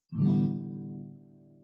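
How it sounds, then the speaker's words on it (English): A single guitar strum on open strings that rings out and slowly decays, the strings sustaining together for over a second. "when you have all these strings together and you just play them open"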